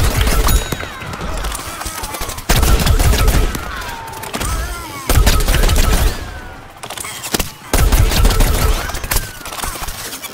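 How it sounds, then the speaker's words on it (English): Repeated bursts of rapid pea-shooter fire in Plants vs. Zombies: Garden Warfare, played on Xbox, come in loud rattling volleys of two or three seconds each, separated by brief pauses amid busy game effects. "I can just go ahead and plug away, kind of snipe with the pea shooter"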